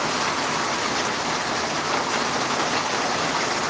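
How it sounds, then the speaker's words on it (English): Steady heavy rain pours down on an outdoor patio, a dense, continuous hiss of drops close by with no letup and no voices. "Sounds like it's going to come down a good one."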